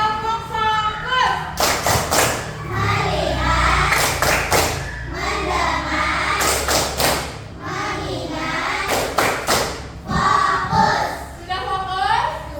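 Schoolchildren in an Indonesian classroom performing the 'tepuk fokus' clapping game, with bursts of rhythmic group clapping alternating with a teacher's voice and lively crowd chatter from the class.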